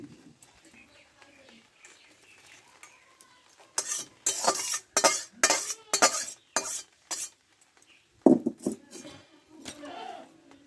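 Shrimp and Malabar spinach curry is stirred in a pan, giving a run of close, loud scraping strokes in quick bursts after a quiet start, then a few more scrapes near the end.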